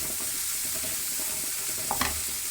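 Chickpea greens frying and being stirred in a pan, with a steady close sizzle and a few brief clatters of the spoon near the end.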